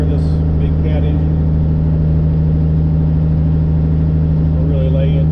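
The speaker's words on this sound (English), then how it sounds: "so you can also hear this big cat engine" A big Caterpillar diesel engine in a truck drones steadily and loudly from inside the cab, a constant low rumble with faint voices in the background.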